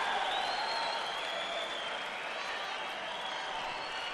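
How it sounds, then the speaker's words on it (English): A large crowd at a judo Grand Prix in Tashkent applauds steadily and loudly, a dense wash of clapping that carries on without a break. "the crowd are just terrific"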